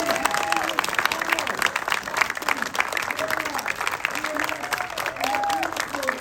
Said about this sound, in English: get one big round of applause again, guys